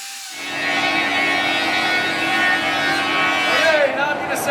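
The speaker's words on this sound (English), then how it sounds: "And then we will go to the router to route the chamfers on top." A wood router cuts chamfers along the top of a wooden shelf, giving a steady, loud high-pitched whine with dense harmonics that holds for several seconds and dips slightly near the end.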